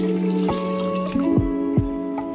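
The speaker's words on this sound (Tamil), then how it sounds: "இப்போ இந்த ஸ்டேஜில் நம்ம வந்து தண்ணி சேர்த்துக்கலாம்." Water pours steadily into a pot of mutton gravy being made for biryani, a continuous close splashing with a few brief clinks over the flow.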